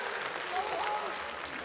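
Audience applause at a Renegades versus Navi CS:GO esports match, a steady broad wash of clapping filling the space with a caster's voice over it.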